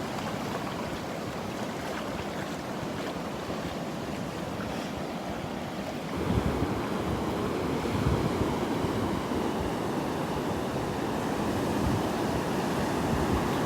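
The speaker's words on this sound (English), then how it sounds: "I love the waves, the sound of them" Gulf of Mexico surf at Delnor-Wiggins beach washes steadily onto the shore in a broad, continuous roar, swelling louder midway as a bigger wave breaks, with wind buffeting the microphone.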